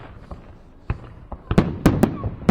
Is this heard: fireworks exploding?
yes